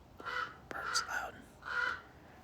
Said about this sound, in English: Bird's loud.